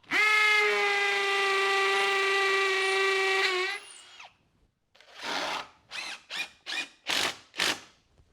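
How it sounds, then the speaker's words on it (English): A power drill drives wood screws through the side of a scrap wooden block, one long steady whine of about four seconds, then after a pause a series of five or six short bursts as the screws are run in, close and loud. "Just take some wood screws and go through the side."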